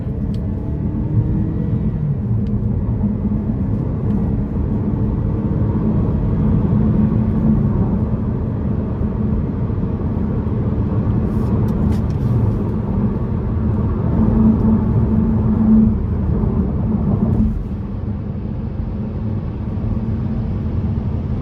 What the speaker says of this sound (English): I'm going to put it in the low gear and put my foot into it.